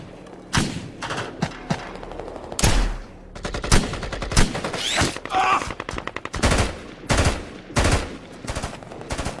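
Dense battle-scene gunfire: repeated machine-gun bursts and single gunshots with heavy booming thuds, loud and close, coming in irregular volleys across the whole stretch with brief gaps.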